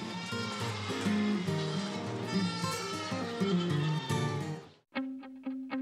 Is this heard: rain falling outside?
no